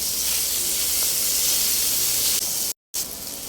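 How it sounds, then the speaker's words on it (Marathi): Paneer pieces frying on their second side in hot oil give a steady, loud hiss with no talk over it. A brief silent gap comes near the end. "तर आपण अशाच प्रकारे त्याची दुसरी बाजू पण फ्राय करून घेणार आहोत."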